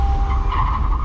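A car drifts with its tires skidding in a loud, continuous squeal over a steady engine roar, close and sustained for about a second.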